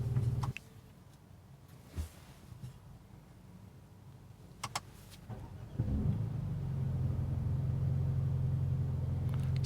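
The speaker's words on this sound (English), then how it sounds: "So let's start it again without this pedal shifter." A 2019 Mercedes-AMG A35 4MATIC engine is started after a few faint clicks. It catches with a rising roar and then settles into a steady, close idle rumble with no talk.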